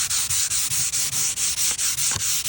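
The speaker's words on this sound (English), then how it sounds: "you can see how nice and easy it just sands off of there" Close, steady strokes of 120-grit sandpaper rubbing down cured exterior putty, a rhythmic scratchy back-and-forth of about ten even passes with no talking.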